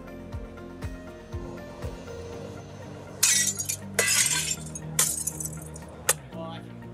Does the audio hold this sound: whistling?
no